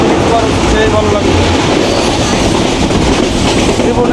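The Banalata Express, a nonstop Dhaka to Rajshahi train crossing the Chalan Beel, roars along with a loud, close, continuous rumble and rattling wheel clatter.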